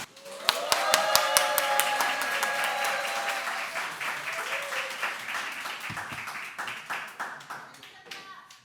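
A church congregation at Sunday worship applauding to welcome a visiting pastor, with sharp individual claps at the outset swelling into sustained, lively clapping that gradually thins into scattered hand claps near the end, with faint voices mixed in.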